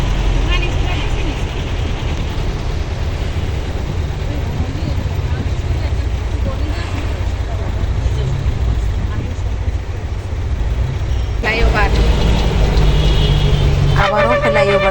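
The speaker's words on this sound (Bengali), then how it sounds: "অনেক জ্যাম।" Dhaka city street in a heavy traffic jam, with a steady roar of engines and road noise that rises louder toward the end, and a voice speaking over it.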